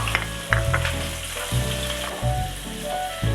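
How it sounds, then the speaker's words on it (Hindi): A medium sliced onion frying in hot oil with cumin seeds for spinach and potato sabzi, giving a loud, continuous sizzle broken by repeated spoon stirs and clatters. "ज़ीरे के फ़ौरन बाद ही हम इसमें स्लाइस में कटी हुई प्याज शामिल कर रहे हैं।"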